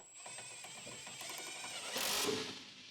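An electric impact wrench with an 18mm deep socket drives skid plate bolts on a 2011-2018 Jeep Wrangler JK, a close, continuous rapid rattling hammer lasting about three seconds that swells louder near the end.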